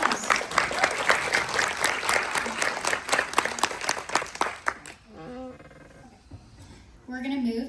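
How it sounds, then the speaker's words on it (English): An audience at a stage event with four candidates claps in a dense burst of applause for several seconds, then it fades out as a voice starts speaking. "Round of applause."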